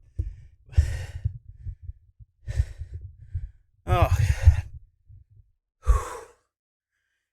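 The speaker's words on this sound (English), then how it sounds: "Huzzah! I can hear my heavy breathing" Heavy, exhausted breathing close to the microphone, several loud gusty exhales and sighs with pauses between, one breath ending in a short voiced groan, after a workout count.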